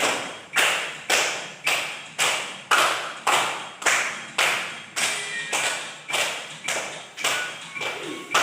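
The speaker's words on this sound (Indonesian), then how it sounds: "Sambil tepuk tangan." Children in a classroom clap their hands along to a song. About fifteen sharp claps land in a steady, even beat, each decaying quickly, with little else audible.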